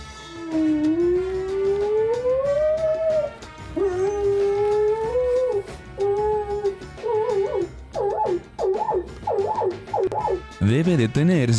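A dog howls long and loud in rising, wavering tones that mimic a fire siren, then breaks into short repeated yelps before a final sweeping siren-like wail, with no talk.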